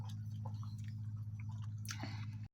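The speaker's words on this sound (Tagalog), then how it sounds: "Tikman ko nga masarap na ba to?" Soft, close chewing of sautéed mung beans cooked with bitter melon leaves, faint wet mouth sounds over a steady low hum, ending abruptly.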